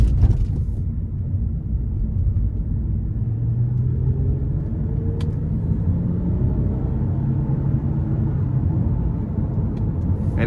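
A 2018 Toyota Avalon Limited with its 3.5-litre engine accelerates under paddle-shifted downshifts, a steady low engine rumble droning throughout with faint shift transients, no talking.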